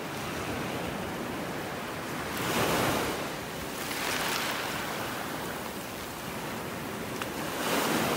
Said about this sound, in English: before the waves wash them out